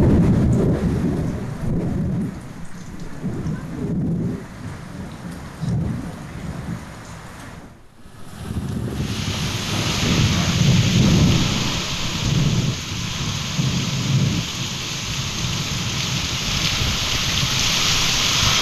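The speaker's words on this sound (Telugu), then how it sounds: "కీసర ఘటకేసర మండలాల్లో పలు ప్రాంతాల్లో ఉరుములతో కూడిన వర్షం పడుతోంది" Thunderstorm with heavy rain from Cyclone Remal in the Keesara and Ghatkesar area, a steady loud downpour with rolling thunder rumbling throughout, a brief lull near the middle, and no voices.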